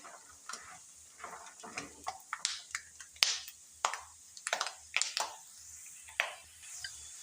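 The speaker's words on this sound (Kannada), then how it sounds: "ಇವು ಚಟಪಟ ಚಟಪಟ ಅವ್ಕೆ ಸೌಂಡ್ ಆಗೋ ಕರ್ಕೋಬೇಕು" Peanuts crackle and pop as they fry in oil, sharp irregular snaps over a steady sizzle, close and clear with no talking.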